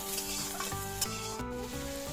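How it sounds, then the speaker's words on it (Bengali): Onion with a large clove of garlic and a little ginger fries in a pan for a village-style paneer butter masala, a steady close sizzle with stirring throughout and no talking. "পেঁয়াজটা ভাজা ভাজা হয়ে এসেছে। তারপরে এর মধ্যে বড় সাইজের একটা রসুন ও সামান্য আদা দিয়ে দিলাম।"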